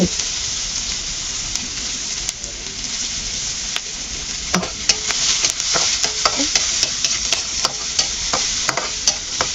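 Onions sautéing in a pan for sarciadong isda sauce: a loud, continuous close sizzle with scattered clicks and scrapes of stirring, and no talk over it.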